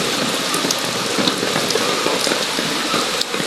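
Steady, heavy rain pattering densely on a surface, close and constant with no pauses.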